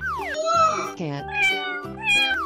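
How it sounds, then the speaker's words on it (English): A cat meows in a few rising and falling, tonal calls, close and fairly loud, with no other sounds around them. "Cat."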